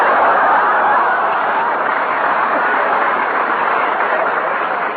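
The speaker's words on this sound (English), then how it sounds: "Train now leaving on track 8 through Illinois to New York State." A train sound effect from a 1950 comedy radio broadcast: a steady, loud, hissing rush of rolling rail noise, continuous and unbroken, with no clear clicks or whistle.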